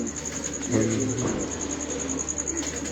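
A pigeon coos softly in a rooftop loft setting, low murmuring calls under a steady high electrical whine and background noise, with someone talking nearby.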